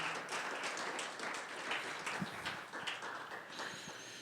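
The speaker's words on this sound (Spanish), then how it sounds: "¿Puede darle una ofrenda de palmas al Señor en esta hermosa mañana?" A church congregation applauds together during a Sunday morning service, with dense, steady clapping close by for several seconds and no speech.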